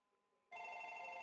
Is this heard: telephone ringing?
yes